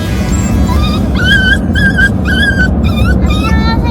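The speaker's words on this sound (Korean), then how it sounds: "식구가 하나 더 늘었습니다. 강아지예요." A puppy whimpers and yips in a string of high, rising cries, several short whines in quick succession, close and clear over a steady low rumble of background noise.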